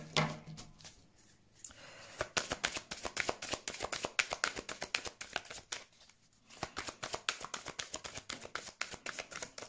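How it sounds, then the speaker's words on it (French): A deck of tarot cards is riffled and handled close up with quick, crisp flutters and snaps. Two short riffle shuffles are separated by pauses, with soft card handling in between. "on va prendre quelques cartes pour le domaine sentimental"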